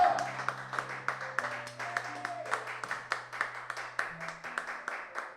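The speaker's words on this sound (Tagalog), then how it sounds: "Ang lakasan nyo yung palakpak ninyo kung naintindihan ninyo" A church congregation claps during a livestreamed worship service, rhythmic hand claps in a steady beat over sustained keyboard chords, loud and close throughout.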